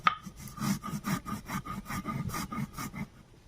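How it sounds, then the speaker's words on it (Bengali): Mustard and poppy seeds being ground into paste on a stone, a steady back-and-forth rasping rub repeated in a regular rhythm, close and fairly loud, with no talk. "এখন আমি সর্ষে পোস্ত বেটে নেব।"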